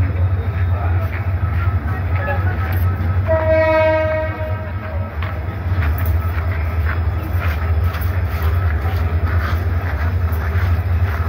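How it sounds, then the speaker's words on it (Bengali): A rescue train approaches on the line after a head-on collision between the Burimari Express and a local train in Lalmonirhat, its loud horn blaring for about a second amid steady rumbling and crowd noise, with people talking nearby. "ট্রেনটিকে উদ্ধার করার জন্য যে ট্রেন সেটি আসতেছে"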